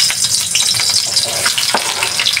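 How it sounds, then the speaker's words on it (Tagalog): Onion and garlic sauté in hot oil in a pan, a dense, loud, steady sizzle with light crackles and a brief stirring scrape, heard up close with no talking. "Gisa muna ako ng sibuyas at saka bawang."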